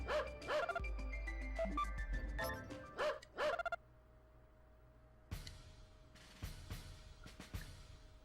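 Shiba Inu dog barking in the video game Metal Saga, a few short synthetic yips among chiming game tones and menu blips, with a sustained tone and bright sound bursts later.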